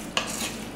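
Spaghetti carbonara with egg gets stirred in a pan, one quick scrape followed by a soft, continuous hiss, close and brief.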